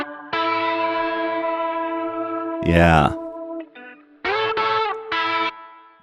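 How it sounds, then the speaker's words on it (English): A music track runs through a Kurzweil KSP8 effects unit, giving sustained, heavily processed tones with chorus-like shimmer, echo and reverb, a sweeping swell midway and short chopped bursts near the end; a voice speaks briefly. "Let me bring the KSP8 effects back."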